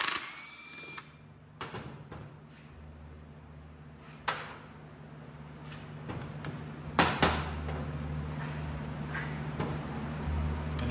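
A power tool or impact gun works on the compensator bolt of a Harley-Davidson ultra bagger in a motorcycle repair shop, giving short loud bursts and clanks over a steady mechanical hum, with no talking.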